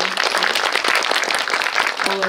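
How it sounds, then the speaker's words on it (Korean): The audience at a guest-visit screening of the film Cassiopeia, with director Shin Yeon-shick and actress Seo Hyun-jin, applauds in a dense, loud, continuous burst that fills the hall from start to finish. "박수 한번 부탁드릴게요"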